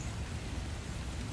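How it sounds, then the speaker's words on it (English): Steady rain falls outdoors during an open-air workout, a continuous dense hiss with low rumble throughout and no voices. "We're laughing because it's raining and we're a little worried about the increase in rain"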